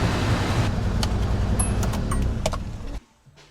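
A 1987 Subaru XT Coupe that sat unused for 20 years idles with a steady, close mechanical rumble, then the engine is switched off and the sound cuts out abruptly into near silence.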